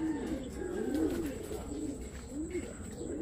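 A racing pigeon coos softly and close by, repeating rolling low calls in a loose rhythm against faint background noise.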